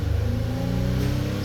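A 2010 to 2016 Nissan Maxima engine revving, a loud close droning hum with strong steady harmonics and a slight pulsing throb, held continuously throughout with no voices.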